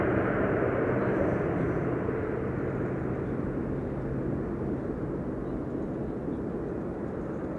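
An Embraer jet landing at Amsterdam Schiphol with thrust reversers deployed, a broad continuous roar of rushing engine noise at moderate distance, steady throughout without voices.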